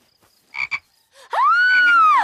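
Cartoon frog croaking: two short rough bursts, then a long, loud, drawn-out croak with a rising and falling tone, close and alone with no talk.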